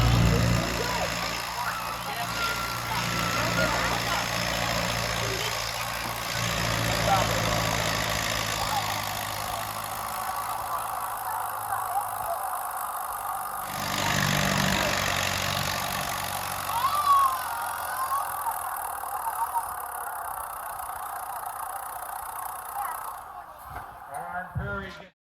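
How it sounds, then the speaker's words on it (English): A 1952 Massey Harris 44 tractor engine idles steadily at a county fair tractor pull, a continuous mid-pitched rumble under crowd noise and a voice on a loudspeaker. "This is a 1952 Massey Harris 44"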